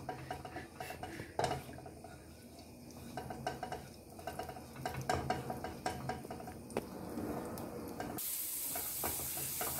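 Garlic sautéing in a pan for millet fusion tacos, a soft continuous sizzle broken by spoon scrapes and light clinks of cookware, quiet and close, with no voices.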